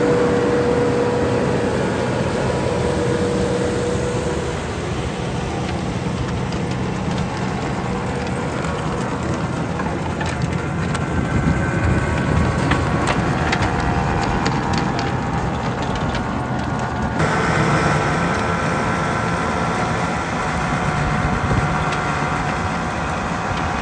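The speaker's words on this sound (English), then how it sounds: "This is like a rotavator on the front and then a wheel on the back." A tractor with a front rotavator and rear wheel tills soil for a carrot planter in a field, its engine running steadily throughout with chopping, rattling soil noise close by and no talk.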